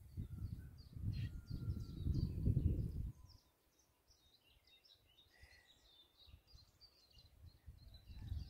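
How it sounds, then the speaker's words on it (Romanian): Small birds chirp faintly in the distance in a quiet Romanian village, their high calls scattered throughout, with a low wind-like rumble during the first few seconds. "Ascultați, dragii mei. Păsărelele."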